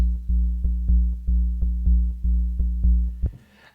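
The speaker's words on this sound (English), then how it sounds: "that is just a square wave" A deep, round sub-bass synth tone, a low-pass-filtered square wave, pulses in a steady repeating pattern, about ten even hits, dull with no bright edge, ending in a short noisy burst.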